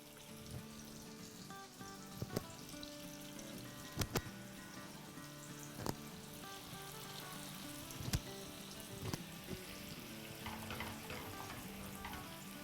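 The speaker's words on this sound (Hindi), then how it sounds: "हमें मीडियम पे ही फ्राई करना है ताकि अच्छे से अंदर तक पक सके।" Breaded chicken kababs fry in oil on medium heat with a continuous crackling sizzle and scattered sharp pops and utensil taps, steady and fairly quiet throughout.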